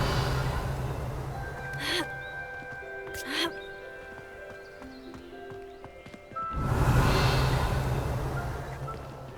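A Revelio spell is cast in Hogwarts Legacy: a shimmering magical sweep swells over a steady low ambient hum, with a couple of brief tonal flourishes before it.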